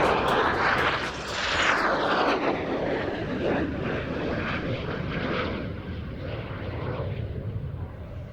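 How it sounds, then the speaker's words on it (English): An Aermacchi M-346 Master jet roaring past during an air show flying display, loud broadband engine noise with a falling pitch as it passes and recedes. "this very aircraft, the 346 Master, will soon take its place at the heart of Italy's national aerobatic team"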